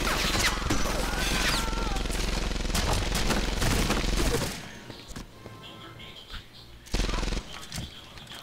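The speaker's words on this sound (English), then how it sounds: "That's a German with a big-ass machine gun." A German soldier's heavy machine gun in Medal of Honor Airborne rattles in a loud, dense sustained burst for several seconds, then stops, followed by a shorter burst near the end, with voices heard amid the gunfire.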